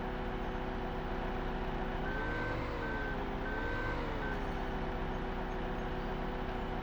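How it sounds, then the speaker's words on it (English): A sugar beet harvester in Farming Simulator 2015 drones steadily with a constant engine hum, while a repeating electronic beep pulses over it for a few seconds. "so this is the sugar beet harvester"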